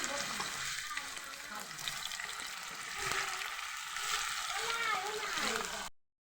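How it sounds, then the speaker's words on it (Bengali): Chicken pieces, rubbed with turmeric and salt, fry in hot oil with a steady crackling sizzle and occasional stirring, while a voice talks over the cooking throughout. "মুরগিটা ভাজা হইতেছে।"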